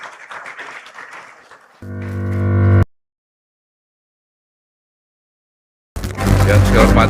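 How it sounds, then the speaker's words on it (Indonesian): Audience applause at an Indonesian government ceremony welcoming the Minister of Housing and Settlement Areas, a loud burst of clapping that breaks off into a short tonal music sting, then silence before more noise returns. "Beri tepuk tangan yang meriah."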